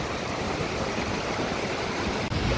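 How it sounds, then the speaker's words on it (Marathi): Water pours through the outlet of Rihegaon Dam near Pune, a dense, constant roar that holds steady apart from one brief dip near the end. "हे पाणी इथनं पडतं सगळं"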